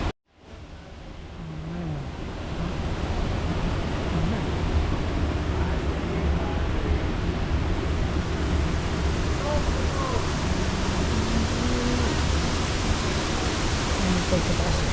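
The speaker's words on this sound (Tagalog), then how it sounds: "Ito yung first falls dito, Talay Falls" Steady broadband rush of Talay Falls, the first cascade at Hulugan Falls, roaring continuously and fairly close, a constant wash of falling water with faint voices of people occasionally under it.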